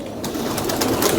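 Pedigree pigeons coo steadily at close range, a soft continuous murmur of overlapping calls with no talking.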